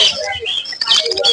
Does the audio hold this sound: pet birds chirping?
yes